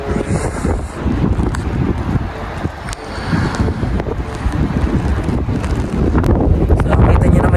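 Strong wind roars and buffets the microphone in heavy, continuous gusts that build louder toward the end, with a voice faintly underneath, outside a house on a cold day in Canada.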